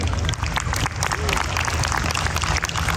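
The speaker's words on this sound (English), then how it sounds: "Let's give her a round of applause." A crowd applauds a student at an 8th grade promotion ceremony, loud continuous clapping mixed with cheers and hubbub from the audience throughout.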